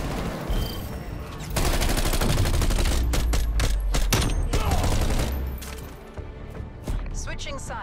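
Sustained automatic gunfire in the video game Call of Duty Cold War, a dense, loud fusillade of rapid shots lasting several seconds, followed by scattered single bursts, with players' voices talking over it.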